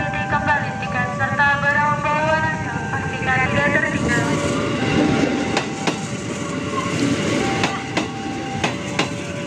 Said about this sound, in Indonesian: KRL tujuan Tanah Abang masuk di jalur 1